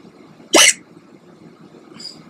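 One sharp, loud hiccup sounds close by in a quiet room. A fainter, shorter catch follows a moment later, and nobody speaks.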